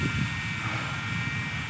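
An Eachine Mini P-47 RC warbird model plane drones past with a steady, fairly loud electric buzz of motor and propeller, with wind noise over it and no talking.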